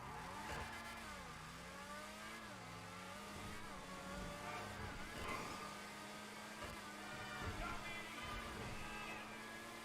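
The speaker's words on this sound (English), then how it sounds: "The Deveste 8. This is one of the best looking and one of the fastest cars in the game." Deveste 8 supercar engine in Grand Theft Auto 5 Online, a steady loud mid-pitched drone with slight pitch swells like revving, continuous throughout and close.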